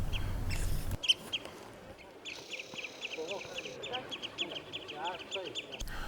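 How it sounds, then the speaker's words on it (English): Oystercatchers call outdoors with a run of shrill, repeated piping notes, some overlapping, at moderate distance over a low background rumble. "these are oyster catchers"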